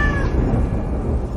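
A cat gives one short, close meow at the very start, which fades into a low rumbling background.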